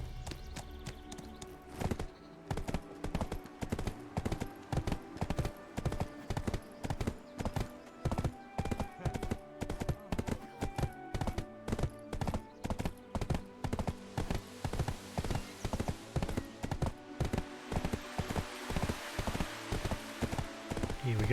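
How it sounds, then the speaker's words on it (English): Horse hooves gallop in a steady, fast clip-clop rhythm while riding across Black Desert Online, the beats loud and continuous throughout with game music and effects layered underneath. "even though we were charging along on a horse"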